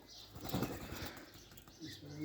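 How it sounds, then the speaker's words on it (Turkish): Pigeons let out in the morning from their loft burst into flight, a flurry of wing flaps that swells and fades over a couple of seconds, with soft cooing behind. "Güvercinlerimizi sabah çıkartıyoruz dışarıya."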